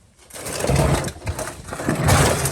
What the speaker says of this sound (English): We used a right angle drill to get in here and it worked perfect.